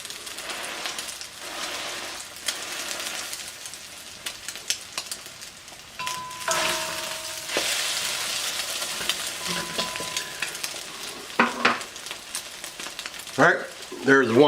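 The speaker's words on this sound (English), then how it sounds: "You just want to cook this till it's crispy on the other side and cooked all the way throughout." Egg foo young fries in a pan with a steady crackling sizzle and occasional scraping or stirring sounds, heard up close with no talking.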